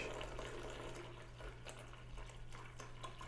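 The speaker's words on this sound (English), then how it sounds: "pour off as much of this water as possible into the pitcher so we don't get this water back into the aquarium" Water from an aquarium setup pours steadily off into a pitcher, a continuous splashing, trickling wash with a low hum underneath and no talking.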